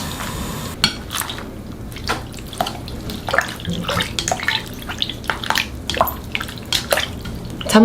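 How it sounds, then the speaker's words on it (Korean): Blanched green garlic is rinsed under cold tap water, with splashing and running water broken by irregular sloshes and drips, close up and moderately loud. "찬물에 빠르게 한번 헹궈서 체에 받쳐주세요"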